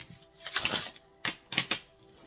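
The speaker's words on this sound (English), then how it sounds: "I'm just going to shuffle this first deck here." A deck of tarot-style cards is shuffled by hand, producing three quick close riffling bursts of crisp paper flutter separated by short pauses, quiet and alone.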